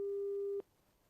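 A telephone busy signal on a call that is not connecting: one steady, clear electronic beep lasting about half a second, then near silence, faint and alone.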